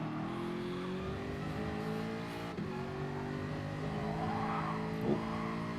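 A Gr3 race car engine on an onboard lap around Catalunya in a racing game, a steady loud drone holding high revs, with a brief dip and swell around gear changes and no talk.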